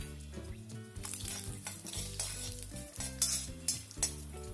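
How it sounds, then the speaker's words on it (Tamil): Mustard seeds and urad dal fry in hot coconut oil with crackling pops and sizzle, while a ladle clinks and stirs against a metal pan and a tonal hum runs underneath. "எண்ணெய் சூடானதுக்கப்புறம் கடுகு உளுந்த பருப்பு சேர்த்துக்கங்க."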